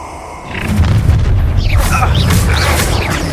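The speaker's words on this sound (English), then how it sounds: "That's the explosion!" A spell explosion in the Hogwarts Legacy video game lands as a deep, sustained boom that swells after a brief lead-in and rumbles on with crackling debris, loud and close.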